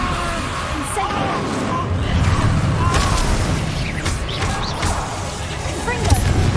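Incendio fire spell cast in Hogwarts Legacy during busy combat, giving dense, steady bursts and whooshing crackles that run without a break under other game effects.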